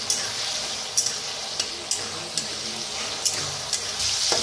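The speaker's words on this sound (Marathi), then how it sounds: "छान असं बटाटे भाजायचं बघा।" Potatoes frying in a pan for sabudana khichdi give a steady soft sizzle, with small sharp ticks and crackles popping through at irregular intervals.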